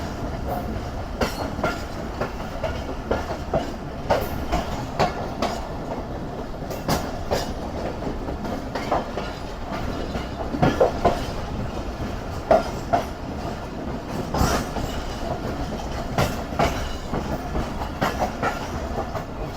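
The Sukkur Express rolls along the Karachi-to-Sukkur line with a steady rumble heard from on board. Regular clickety-clack wheel beats repeat through the whole stretch, and faint squeals rise now and then.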